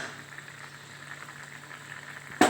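A pot of kurma curry with coconut bubbles at a steady boil, soft continuous burbling close by, with a brief louder clatter at the very end.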